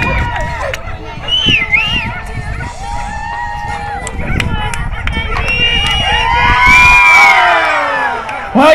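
A large crowd at a dog jumping contest cheers and shouts loudly, with whoops and children's voices rising to a roaring peak before it eases, while an announcer talks over it.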